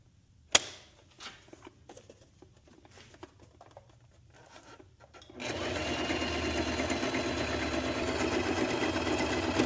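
Sewing machine stitching patio cushions starts up midway after a few quiet clicks and handling sounds, then runs steadily and loudly with a continuous whirring motor and rapid needle patter.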